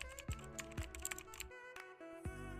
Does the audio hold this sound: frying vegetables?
no